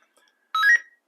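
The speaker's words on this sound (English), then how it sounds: "So we've got a voice and we've got a beep." A single short electronic power-on beep from a TID TD-H3 handheld radio, a clear tonal chirp lasting a fraction of a second and heard alone against near silence.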